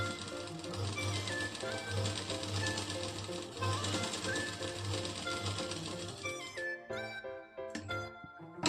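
A sewing machine stitches blouse lining to the main fabric, a faint, rapid rhythmic clatter that runs steadily before stopping near the end.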